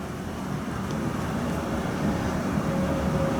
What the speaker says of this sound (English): one of the biggest issues this room has, if you can't really hear it, is the traffic noise.